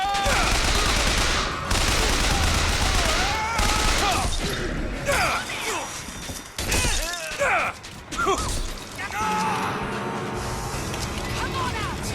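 Bursts of gunfire in the video game Bioshock Infinite, rapid volleys and shots mixed with shattering and clanking, loud and close, with shouting voices over the fighting.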